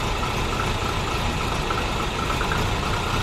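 Volvo 740 engine with an intake manifold leak, running loud and close with a dense, steady roar and no clear change in pitch.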